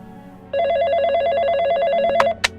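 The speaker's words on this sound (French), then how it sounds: "le téléphone sonne enfin chez les Watson" A telephone rings at a family home in France, a steady repeating electronic bell tone that starts abruptly and continues loudly for about two seconds before two sharp clicks cut it off, with no talking.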